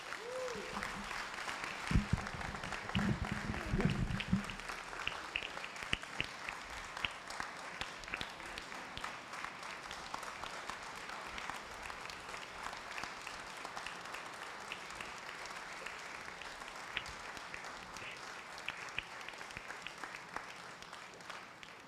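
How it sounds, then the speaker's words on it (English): Applause from the audience at an open mic tribute event, broad sustained clapping that runs steadily through the clip with a louder burst near the start, and a voice briefly heard early on. "I'd like to give them another applause for what they've done, the effort"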